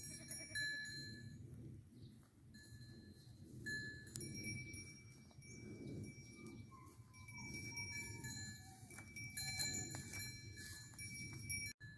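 Goats in a farm pen fenced down the middle, faint bleats rising over a steady outdoor rumble, with occasional light jingling and a sharp knock near the end.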